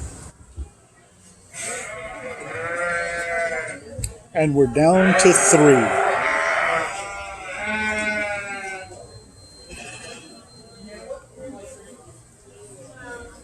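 Sheep bleat at a market lamb show, the calls rising now and then over an announcer who talks almost throughout.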